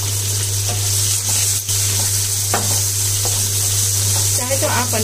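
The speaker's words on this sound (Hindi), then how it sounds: "प्याज को हमें भून लेना है" Onions frying in hot oil with cumin and asafoetida for kadhi, a steady loud sizzle with a few soft stirring scrapes and clinks throughout.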